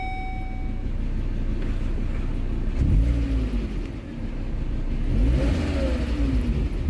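Engine of a 2012 Volvo S60 with a swapped ignition coil, idling smoothly and steadily, then revved twice, each rev rising and settling back, close and loud with no voices.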